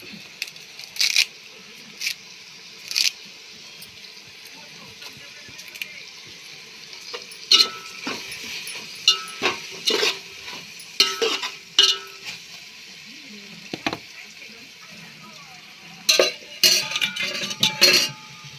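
Curry leaves frying in a pan while making pappu charu, with crackling sizzle and scattered sharp spits and pops over a steady hiss, no talk.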